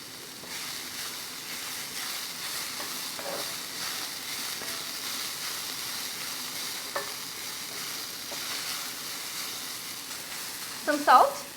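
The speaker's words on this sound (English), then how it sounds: "40 seconds before you turn off the heat, you add the garlic." Garlic and herbs sizzling as they fry in a pan, a continuous close hiss that stays even for several seconds, ending with a burst of louder scraping stir sounds.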